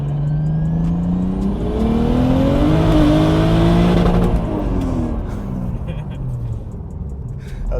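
Modified car with a custom exhaust revving hard and accelerating, the engine pitch rising and falling in loud sweeps heard from inside the cabin, with people talking over it.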